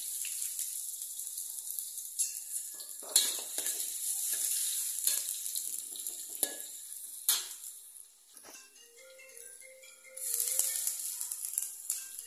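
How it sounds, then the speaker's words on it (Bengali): Liver and potatoes fry in hot oil with a steady, close sizzle, broken by a few sharp clinks and stirring sounds, with no talking. "প্রথমে আমি কলিজাটাকে তেলের মধ্যে খুব ভালো করে ভেজে নিয়েছি। তারপর এটার মধ্যে আলুগুলো দিয়ে দিয়েছি।"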